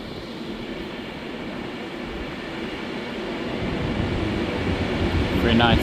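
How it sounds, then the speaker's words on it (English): An Avanti West Coast train to London Euston arriving at Stoke-on-Trent station, with a steady low rumble and hiss that swells gradually as it draws nearer. "arriving in now is going to be the 1653 Avanti West Coast service to London Euston."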